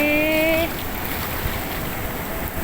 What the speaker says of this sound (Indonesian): gelombangnya, ombaknya, lebat sekali